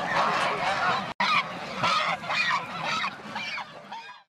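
A flock of mast-breed geese on a goose farm honks loudly and repeatedly, overlapping calls crowding together close by before tapering off.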